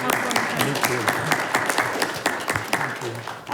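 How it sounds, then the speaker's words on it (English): Steady applause from a crowd at a planning and zoning meeting, dense continuous clapping with a few sharper individual claps standing out, fairly loud and close throughout. "Round of applause for us."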